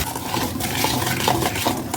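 A spoon steadily stirs Eid biscuit dough made with baker's ammonia, giving a continuous close-up scraping and sloshing with soft repeated knocks against the bowl, with no voices.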